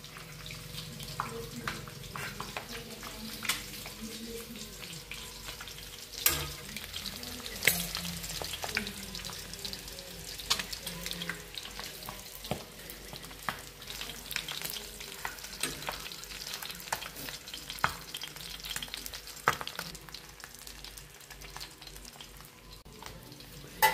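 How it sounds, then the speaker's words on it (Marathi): Eggs fry in a pan with onions for an Indian egg masala, giving a steady close sizzle and crackle with occasional scrapes and clinks as they are turned, and no talking. "अंडे आता पलटी मारून घ्यायचे।"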